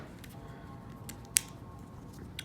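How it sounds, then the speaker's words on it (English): A single crisp snip of scissors slicing apart paper stamps for a handmade board book, one short sharp cut in a quiet room with a couple of faint paper rustles around it. "now I'm just going to slice those apart"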